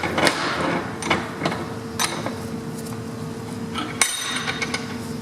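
An aircraft part being locked and slid during maintenance gives sharp metallic clicks and clinks, with one hard snap near the end over a steady low hum, close and fairly loud.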